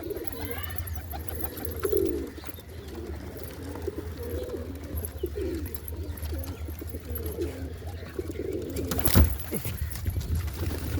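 Pigeons coo repeatedly nearby, with soft, throaty calls recurring through the scene, alongside faint rustling and occasional background voices.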